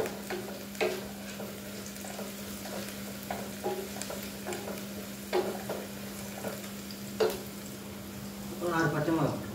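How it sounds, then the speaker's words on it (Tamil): Onions sautéing in a pan for Tamil-style egg curry, with a soft steady sizzle, scattered stirring scrapes and clinks of a utensil against the pan, and a low steady hum underneath throughout. "வெங்காயம் நல்லா வதங்கி வரணும்"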